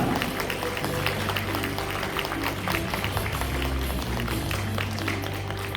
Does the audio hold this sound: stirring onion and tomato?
no